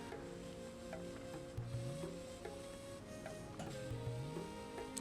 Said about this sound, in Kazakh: Қазір енді мен помидорды салатын боламын.